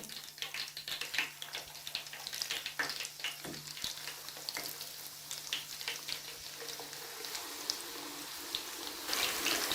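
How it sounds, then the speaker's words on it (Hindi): Chicken pakora fries in hot oil with a continuous close crackling sizzle, dotted with light clinks and stirring movements, and grows a little louder and brighter near the end. "ये जो बाकी का चिकन है इसको भी मैं फ्राई करती हूँ"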